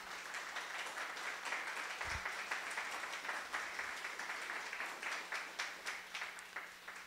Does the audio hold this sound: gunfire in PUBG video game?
no